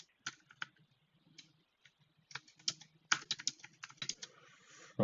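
Typing on a computer keyboard, heard close and fairly quiet: sparse, irregular key clicks at first, then quicker bursts of tapping with brief pauses between them.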